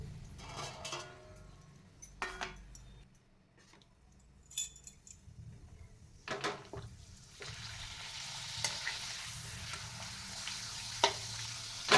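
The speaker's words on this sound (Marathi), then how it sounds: "आणि मीडियम गॅसवरच पापड तळून घ्यायचं आहे" Urad dal papad frying in hot oil over a medium gas flame, a close bubbling sizzle that swells louder and denser in the second half, with scattered clinks and scrapes.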